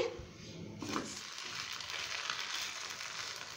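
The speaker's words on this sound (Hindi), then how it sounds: "अब हम इसको टर्न करेंगे।" A rice and vegetable paratha fries in an oiled pan just after being flipped, giving a steady close sizzle and crackle with a soft scrape near the start.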